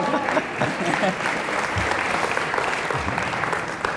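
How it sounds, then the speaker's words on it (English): Sustained audience applause fills a lecture hall in a dense, steady wash of clapping, with a few voices and cheers faintly mixed in. "they deserve that applause"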